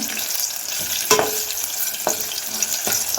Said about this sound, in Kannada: ಮೆಣಸಿನ್ಕಾಯಿನ ಇದರಲ್ಲೇ ಫ್ರೈ ಮಾಡಕತ್ತೀನಿ ನೋಡ್ರಿ